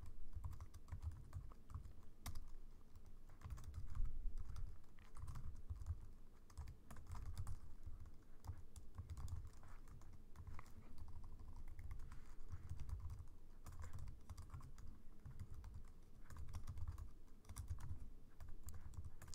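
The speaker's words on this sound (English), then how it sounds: "Sorry, my typing is not the best." Rapid, uneven typing on a computer keyboard as Java code is entered, a close, soft clatter of key presses running steadily with brief pauses and no talking.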